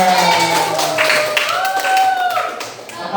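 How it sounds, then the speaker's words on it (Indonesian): A class of students claps together in a classroom guidance session, with sharp claps rising over a voice and other sustained tones in the room. "Oke, tepuk tangan semuanya."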